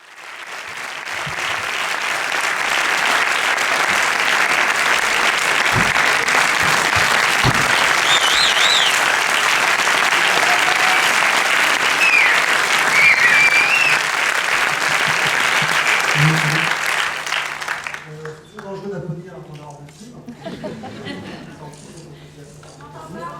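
A festival audience at a French-language film festival in Angoulême applauds loudly and steadily for about eighteen seconds, a dense wash of clapping that then dies away into a quieter room with a voice talking.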